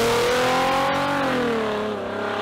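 Mercedes S600 V12 fitted with equal-length header exhaust revving in a sustained, loud, smooth howl whose pitch rises slightly then eases off before cutting out abruptly.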